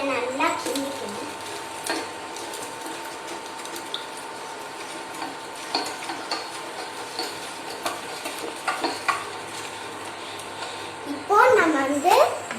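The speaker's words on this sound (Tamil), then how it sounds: "இப்போ நம்ம இதை நல்லா கிண்டிக்கணும்" Lemon juice being stirred into ginger lollipop syrup in a pan, making faint soft scraping and light clicking sounds over a low background hum, with someone talking through much of it.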